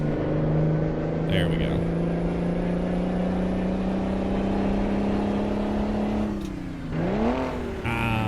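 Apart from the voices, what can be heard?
truck engine revving through gear shifts, American Truck Simulator video game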